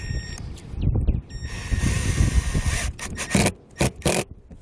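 A drill with a Phillips bit drives screws into the plastic flange of a MaxxFan roof vent, producing rough whirring and scraping bursts in short runs with pauses between, close by.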